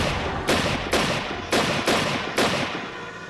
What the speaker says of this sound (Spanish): realizó 6 disparos